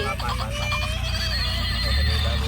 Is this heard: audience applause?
no